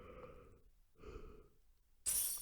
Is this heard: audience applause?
no